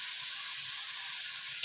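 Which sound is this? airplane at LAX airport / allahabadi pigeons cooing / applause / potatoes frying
potatoes frying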